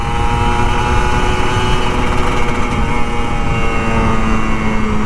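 An older Kawasaki Ninja RR 150 motorcycle is ridden hard on a morning road, giving a loud, constant engine drone with a steady pitch and no voices.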